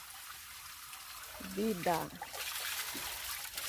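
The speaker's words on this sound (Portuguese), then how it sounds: "vou mostrar a água aí. Água aí, a nascente do rio Tietê." Clean spring water flows at the source of the Tietê river, a soft steady rushing trickle heard close and continuous while someone speaks briefly over it.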